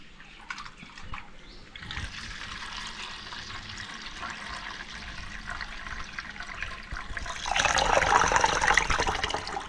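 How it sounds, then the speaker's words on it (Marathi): Urad dal lentils are rubbed by hand and washed in plenty of water for medu vada batter, a continuous close sloshing and swishing that swells louder toward the end. "अशी 2-3 वेळा तरी चोळून चोळून चांगली धुवायची."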